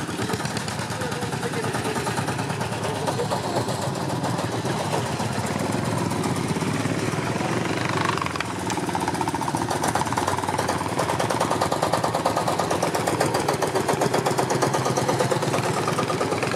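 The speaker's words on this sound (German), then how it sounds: "Fährt der Lanz an mir vorbei?" A vintage Lanz Bulldog D 3606 tractor at a rally, its loud, rapid, hammering engine thump continuous and close, mixed with crowd voices and background music.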